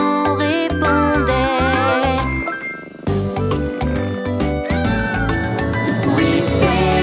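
Cartoon cat meows woven into a French children's song about a little cat, with bright melodic music and sung lines running continuously throughout.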